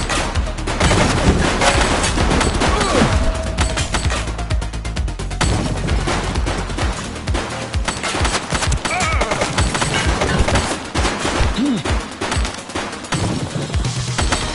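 An enemy fires in rapid, dense bursts of video game gunfire that keep going for about fifteen seconds, loud and close, with crashes and impacts mixed in.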